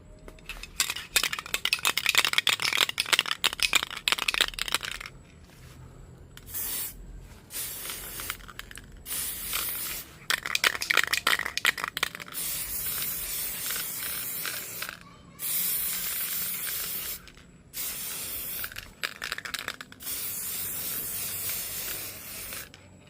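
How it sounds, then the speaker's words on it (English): Compressed air is pumped in bursts into an empty spray paint can that has been refilled with paint, making loud repeated hissing and spraying rushes separated by brief pauses, with no talking. "Then, add air pressure into the spray can so it's ready for use."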